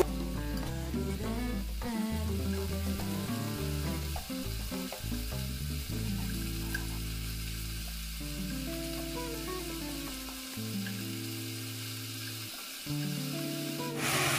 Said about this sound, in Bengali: এবার আমি এগুলো চিমটে দিয়ে উল্টে উল্টে ভেজে নেব